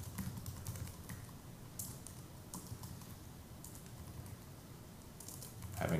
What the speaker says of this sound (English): Having typing issues here.